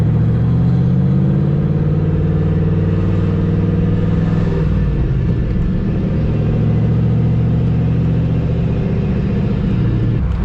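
A turbocharged GTO accelerates hard through a downtown street, its engine roaring loudly and steadily with a deep rumble, boost building through the pull and a brief dip in tone around the middle as the gear changes.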